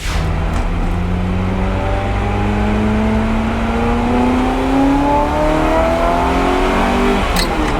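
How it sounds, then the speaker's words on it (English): A Ferrari F355 engine revs loudly and steadily, pitch climbing through the gears in a sustained high-revving roar, close and continuous. "The Ferrari F355 is one of the best sounding cars, undoubtedly, of its time."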